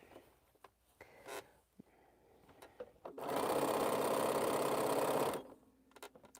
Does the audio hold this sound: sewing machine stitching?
yes